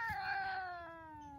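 A Bengal hybrid cat lets out a single drawn-out, falling yowl, close and fairly loud, with no talk over it.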